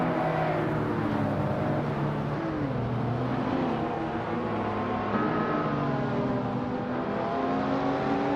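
Race cars in a racing video game speeding side by side, a steady loud drone of several engines with rising and falling pitch as they rev and shift, continuous throughout with no talk.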